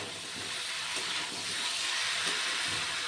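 Drumstick curry sizzles and hisses steadily in a pan as sugar is stirred in, a loud, continuous frying hiss close up with faint scraping.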